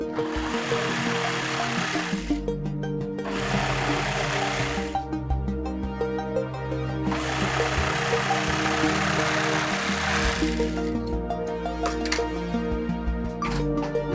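A sewing machine runs in long steady bursts while stitching the seams of a pencil skirt, its fast rhythmic whirr loud and close and broken by short pauses between runs.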